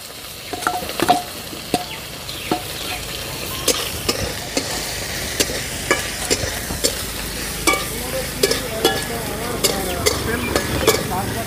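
Shrimp dropped into hot oil with whole radhuni and cumin seeds, sizzling and frying steadily while a utensil scrapes and stirs in repeated sharp knocks across the pan.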